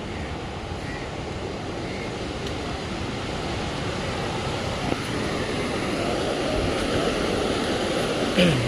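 Steady broadband roar of ocean waves washing onto a beach at night, loud and continuous with no clear breaks between swells, and no voices over it.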